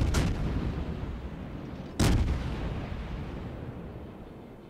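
Naval cannon fire from the Baltimore cruiser in World of Warships, two heavy booming salvos about two seconds apart, each with a sharp loud onset and a long rumbling decay, no voices.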